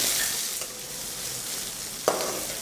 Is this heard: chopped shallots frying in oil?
yes